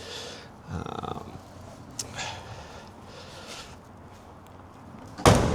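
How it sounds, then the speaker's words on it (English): A Camaro race car door swings shut and latches with a loud, heavy thud at the end, after a few softer clicks and rustles of an aero latch. "Close the door there, close this aero latch"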